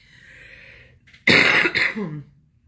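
A single rough cough or throat clearing bursts out close by after a moment of quiet, then trails off.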